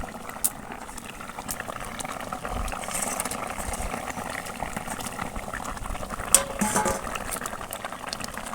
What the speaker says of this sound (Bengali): ঝোল একদম পুরো টপ করে ফুটছে দেখুন